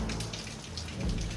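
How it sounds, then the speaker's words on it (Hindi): Heavy rain falls in Manali, a brief burst of dense, steady hiss and patter, fairly quiet and heard on its own. "बारिश बहुत ज़्यादा है"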